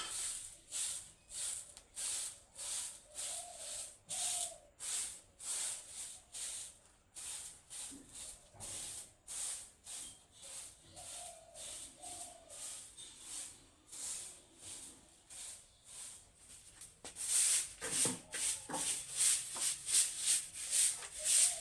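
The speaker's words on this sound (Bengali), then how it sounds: "তো এটা এখন ঝাড়ছি।" A broom sweeps the inner courtyard of a home, making rhythmic, quiet scratchy swishes in steady repeated strokes, faster and louder toward the end, with no talking.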